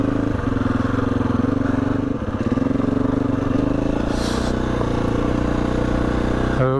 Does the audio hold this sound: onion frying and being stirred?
no